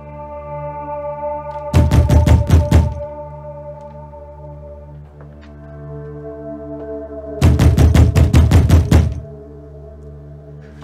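Two bursts of loud, rapid knocking on a door, each a fast run of about six or seven heavy raps, separated by several seconds of low sustained tones.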